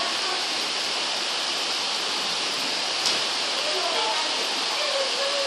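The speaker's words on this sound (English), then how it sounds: "Oh my God, it is raining." Heavy rain pours down during a thunderstorm as a dense, constant hiss with no breaks, close and loud throughout.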